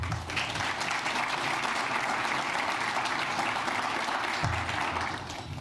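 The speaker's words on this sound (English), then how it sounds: "I like the applause." Steady applause from the audience at the NYPD Commissioner's State of the NYPD address, a continuous wash of many hands heard at a moderate distance, with a brief low thump partway through.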